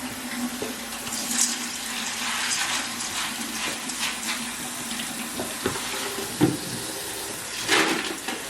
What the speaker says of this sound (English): First thing that we do after measuring this corn out is we're going to rinse it.